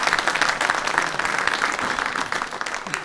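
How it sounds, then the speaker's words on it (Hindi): Audience applause at a Republic Day mushaira poetry gathering, a dense, steady clapping from a large crowd that carries loudly and evenly through the whole stretch. "हम आप लोगों के लिए तालियां बजाएंगे"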